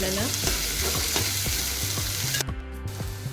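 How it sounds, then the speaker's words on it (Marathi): Onion sizzles steadily in a hot pan, with repeated scraping and clinking of a utensil stirring it, close and loud, with no talking. "आता आपल्याला यामध्ये कांदा टाकायचा कांदा थोडा चांगला शिजू द्यायचा आहे"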